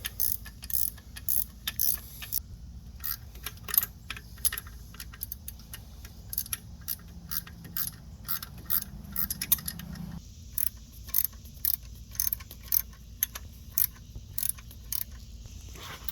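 Hand ratchet snugging bolts on a 5.7L Hemi engine in a 2016 Dodge Charger R/T during an engine replacement: quick, faint, metallic clicking in irregular bursts against a low hum.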